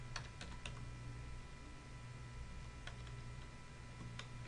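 Keys clack on a computer keyboard in irregular bursts of quick taps with pauses between, close and fairly quiet over a steady low hum, no voices.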